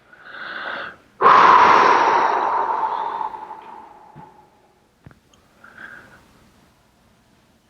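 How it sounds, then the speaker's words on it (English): During guided meditation, one long, deep breath is drawn in sharply and let out slowly, close and loud, followed by quieter short breaths. "So take a couple deep breaths."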